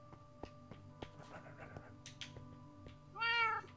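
Percy, a cat in Minecraft, gives one short, clear meow near the end, louder than the faint background game sounds and soft clicks before it.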